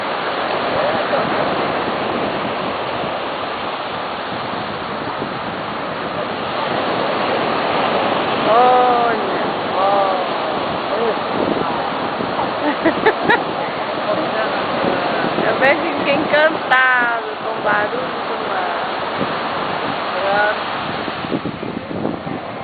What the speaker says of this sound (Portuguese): Copacabana, 8 horas da noite, delícia, beira do mar, fresquinho, vem.